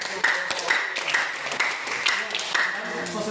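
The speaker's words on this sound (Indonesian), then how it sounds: "Oke, tepuk tangan dulu Kak" Classroom applause after a student group's presentation, a brisk, fairly dense patter of clapping from a small group that holds steady throughout.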